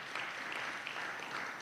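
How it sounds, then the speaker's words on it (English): Brief, fairly quiet applause from an audience at a Kenyan political address, a steady patter of many hands clapping with no distinct voices. "Kenyans, you must clap for yourselves"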